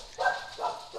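Puppies let out a few short, high yips in quick succession, close and fairly clear, with no talk over them.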